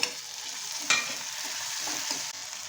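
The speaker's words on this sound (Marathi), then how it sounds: "कांदा छान असा परतला गेला ना की आपण एक छोटासा टोमॅटो मी ॲड केलेला आहे" Chopped onion and a small tomato sauté in a pan with a soft, steady sizzle. A single stirring scrape stands out near the start, and no one speaks.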